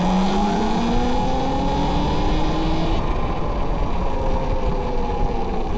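A loud electric bike rides off-road in a group session, a continuous close motor whine with rising and falling pitch sweeps over rough, rumbling ground noise, with no speech.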